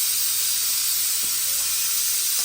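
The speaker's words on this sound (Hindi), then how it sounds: "एक के बाद एक कुकर में सीटी आती जा रही है।" A pressure cooker whistles in a home kitchen, a steady, loud steam hiss running through the whole stretch with no talk over it.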